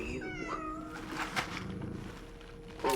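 A cat meows inside the video game Cronos: The New Dawn, a clear close mewing with rising and falling cries over a steady game ambience, joined by faint extra meows.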